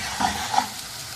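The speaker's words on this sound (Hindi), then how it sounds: "एक बड़े साइज़ का प्याज बारीक कटा हुआ, इसको हल्का सुनहरा फ्राई करना है" Oil sizzles steadily as a finely chopped large onion is fried to light golden and stirred, with a couple of soft clinks from a utensil against the pan.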